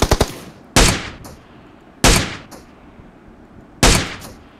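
Gunfire in a battle royale video game during an intense final-zone fight: a quick burst of shots, then three loud single shots spaced over a couple of seconds with short echoing tails.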